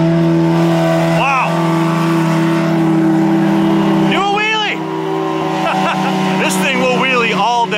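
Side-by-side UTVs, a Polaris RZR, Yamaha YXZ and Can-Am X3, drone loudly at steady high revs with rising engine whines as they race, while people talk over the continuous roar.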